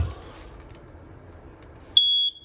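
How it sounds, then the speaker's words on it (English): A smoke detector in the hallway of a 2021 Grand Design Reflection 260RD RV sounds one sharp, loud, high-pitched beep after a quiet stretch. "Smoke detector is right in the hallway here, right up top."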